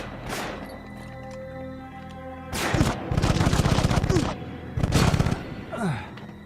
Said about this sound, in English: The assault rifle seems to be the worst gun so far